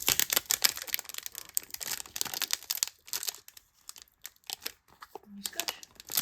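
Close-up crinkling, ripping and scraping as a taped cardboard Pokémon card box is pulled open, in irregular bursts with brief pauses.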